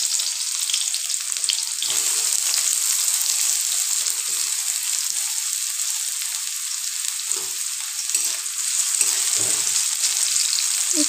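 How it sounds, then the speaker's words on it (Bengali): Chopped onion hits hot oil in a pan and sizzles steadily and loudly, a constant hiss of frying with occasional soft scraping and stirring sounds. "তেলটা ভালোভাবে গরম হয়ে গেলে এর মধ্যে দিয়ে দিলাম পেঁয়াজ কুচি"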